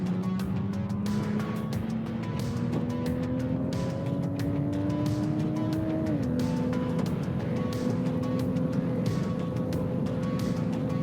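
Toyota FR race car lapping the Manfeild circuit in an onboard view, engine note rising steadily through a gear, then a sharp drop at a shift and a renewed climb, loud and continuous with wind noise.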